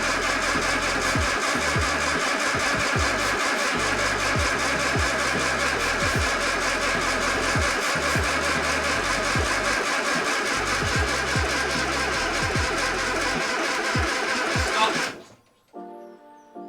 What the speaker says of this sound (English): Well, the new starter motor definitely works, but it's still not starting.